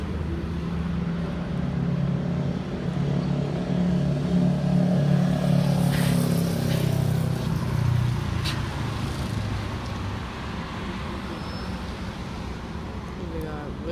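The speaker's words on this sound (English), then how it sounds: "Bus number 2144 departing Waverley bus depot." A city bus numbered 2144 pulls out of the Waverley bus depot, its diesel engine rumbling low and steady throughout, swelling slightly midway, with traffic noise around and a voice talking faintly in the background.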